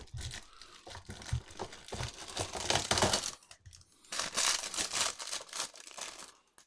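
A Lego Marvel Avengers advent calendar packet is torn open and crinkled up close, with bursts of plastic rustling and tearing, a brief pause midway, then more crackling handling and no talk.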